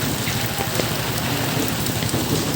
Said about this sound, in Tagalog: patuloy pa rin ang paglakas ng ulan. Grabe pa rin. Wala pa rin tigil.